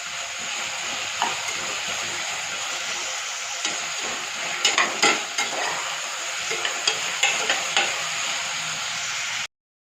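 Radish and vegetables sautéing in a pan for radish masala kuzhambu, a constant sizzle with a cluster of spatula scrapes and taps in the middle, cutting off sharply at the end.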